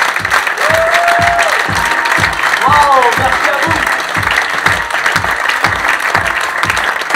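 A theatre audience at the Cinévox applauds loudly after a show, strong rhythmic clapping that continues throughout while someone speaks briefly over it.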